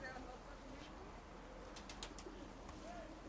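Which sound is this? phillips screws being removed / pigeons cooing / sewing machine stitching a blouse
pigeons cooing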